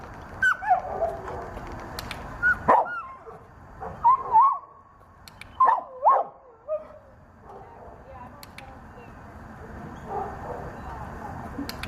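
A dog at a gate during a training session gives several sharp barks in bursts with pauses, some with a whiny edge, set against a quiet outdoor background.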